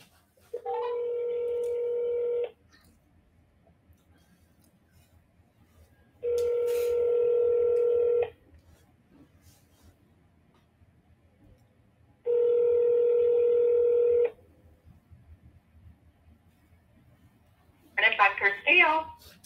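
An outgoing telephone call rings back in three long, evenly spaced tones separated by silence, each about two seconds long, before a burst of voice answers at the end.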